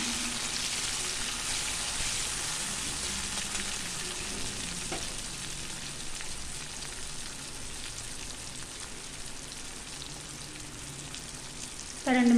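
Tomatoes sautéing in oil in a frying pan for a Tamil-style pepper fry, a constant, fairly quiet sizzling hiss that runs throughout and ends with a brief louder scrape, no voices.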